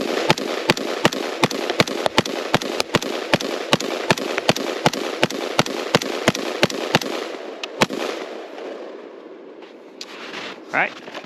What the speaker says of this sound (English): shot all 20 just fine, locked open, no issues